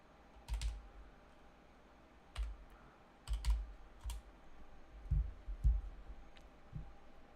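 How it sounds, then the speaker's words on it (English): Computer keyboard tapped in short scattered clusters of soft keystrokes as a verification code is entered, close but quiet against a faint background hum, with no talking. "So let me type that in."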